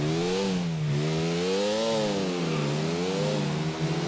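A motorbike in GTA IV revs close by in a loud, continuous engine whine, its pitch rising and falling in repeated swells with no speech over it.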